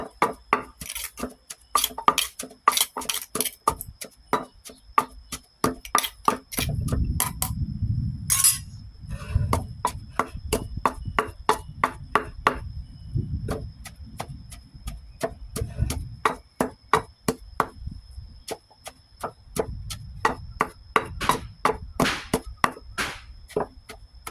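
A pestle pounds a Thai grilled mackerel chili dip in a mortar, giving a long run of sharp, rhythmic knocks and clinks up close, with a few heavier thuds and brief pauses between bursts.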